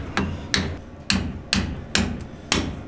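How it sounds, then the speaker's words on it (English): A hammer strikes a part on an LS-swapped S10 burnout truck, six sharp metallic blows at a steady, roughly half-second rhythm, close and loud with no talking. "You got a hammer right behind your head if you want to wedge it in there."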